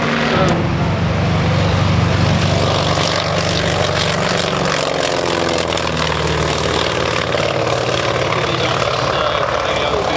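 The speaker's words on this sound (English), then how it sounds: "These are all carrier-based airplanes." Carrier-based propeller warbird airplanes at a beach airshow, heard as a loud, continuous engine drone with a steady low hum throughout, and a voice talks over it.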